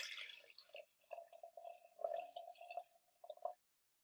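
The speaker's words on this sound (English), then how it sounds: "I'm going to go ahead and put the hydrogen peroxide in first." Hydrogen peroxide poured into a jar, heard as a close, quiet trickle with gurgles and drips that stops abruptly, with no voices.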